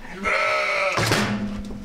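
A ewe on an experimental farm gives one clear, close bleat of about a second, followed by a short trailing sound, with no talking.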